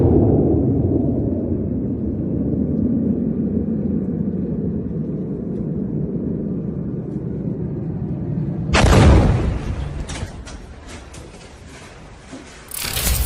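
An Iranian missile strike on a US airbase in Saudi Arabia: a low, rumbling roar builds, then a sudden loud blast erupts, followed by crackling and scattered debris-like bangs.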